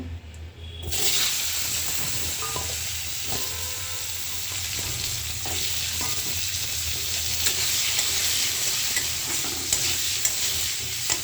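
Bay leaf and cumin seeds sizzle in hot oil in a kadai as the base for an egg curry. A loud, steady frying hiss starts abruptly and runs unbroken to the end, with no voices.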